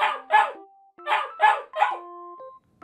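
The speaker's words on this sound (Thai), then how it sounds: "เมื่อเจ้าหมาเห็นยายเดินออกมานั่งหน้าบ้านมันจึงเห่าทักทาย" A dog barks a quick series of sharp, clear yaps in close succession, loud and near, with brief pauses between bursts and a short whimpering tone trailing after some of them.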